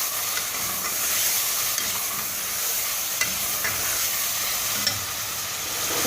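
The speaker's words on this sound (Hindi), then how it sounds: "इसको अच्छी तरीके से मिक्स करके इसमें भूनेंगे।" Onions stirred in a pan with garlic and ginger while cooking beef haleem, giving a steady soft sizzle with faint scraping stirs, close and continuous with no talk.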